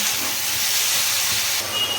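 Mushrooms fry lightly in oil, giving off water as they cook. A loud, continuous close hiss holds steady throughout.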